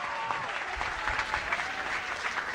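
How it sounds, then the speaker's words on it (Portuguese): An audience applauds teachers at an official event in Ceará, with a steady patter of many hands clapping at moderate distance and a voice faintly beneath it. "eu queria pedir uma salva de palmas a todos os professores e professoras do Ceará"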